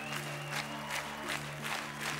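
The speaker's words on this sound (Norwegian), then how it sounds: "Stor applaus til Aylar og Egor" Applause from a television ballroom audience for dancers Aylar and Egor after their quickstep, heard as a steady wash of clapping with a faint sustained musical tone beneath.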